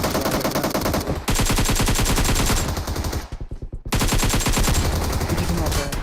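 Gunfire crackles in PUBG Mobile, loud sustained automatic bursts in rapid rhythm filling nearly the whole stretch, broken by one brief pause of spaced single shots before firing resumes.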